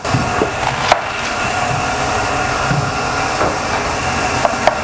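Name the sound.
knife thinly slicing red cabbage on a board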